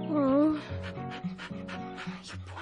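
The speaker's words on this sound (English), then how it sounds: "it's a sweet little dog" An injured dog pants heavily and gives small whimpers close by, its breathing steady throughout, while people talk softly over it.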